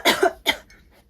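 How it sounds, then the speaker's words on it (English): A person coughs twice in quick succession, close and loud, with a brief throat-clearing tail fading into quiet indoors. "I just had a little coughing fit because I'm like too excited."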